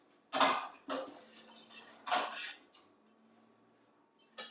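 Solid tallow being dropped into a cooking pot while rendering fat for pemmican, heard as a few loud clattering knocks and scrapes of metal cookware with quieter handling noises between them.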